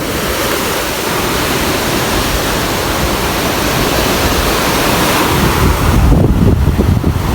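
Sea waves pounding and eroding the coastline at Point Pedro, a loud continuous roar of surf mixed with wind buffeting the microphone, steady throughout and swelling slightly near the end.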